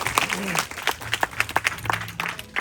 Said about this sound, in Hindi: थोड़ा एक बार जोरदार तालियां और एक बार जोरदार साउंड के साथ शुरू करते हैं